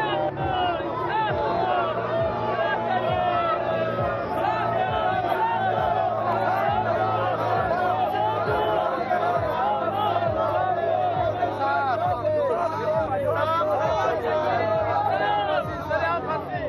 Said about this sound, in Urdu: انصاف کی اپیل کی جا رہی ہے، نعرے لگائے جا رہے ہیں